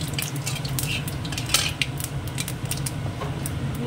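Dried red chilli and cumin seeds crackle in hot oil in a pan, a steady close sizzle with scattered pops and light utensil clinks throughout.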